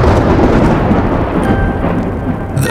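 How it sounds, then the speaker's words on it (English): Thunder as a deep, continuous rumble rolling loud and close for the whole stretch, with a faint sustained tone threaded through and a sharper crackle near the end. "The thunder."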